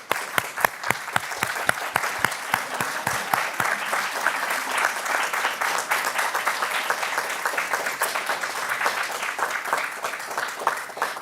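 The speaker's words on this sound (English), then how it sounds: "give these individuals a round of applause" A room of guests at a school board of education meeting breaks into applause, a few distinct claps at first that swell into dense, steady clapping lasting several seconds.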